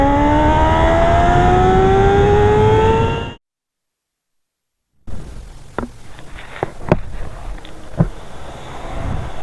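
A Kawasaki ZX6R fitted with an SC Project exhaust screams up through second gear to top speed, loud and close, cuts off abruptly into silence, then returns as a lumpy idle with sharp pops.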